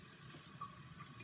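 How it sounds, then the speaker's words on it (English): A tap runs steadily for hand washing, a soft, even hiss of flowing water that is faint and brief, with no voices. "The first thing we do is we turn our water on."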